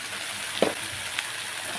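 Spice paste with turmeric and salt frying in a pan, a soft steady sizzle with a couple of brief stirring scrapes, faint and close.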